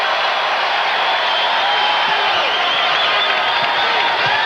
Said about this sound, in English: Now the crowd making some noise in the Target Center.